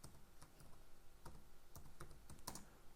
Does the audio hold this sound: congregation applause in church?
no